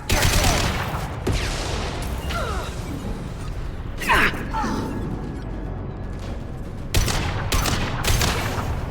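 Heavy gunfire rattles through a Mass Effect 2 firefight in repeated sharp bursts and impacts over a steady din of combat, with several louder volleys standing out.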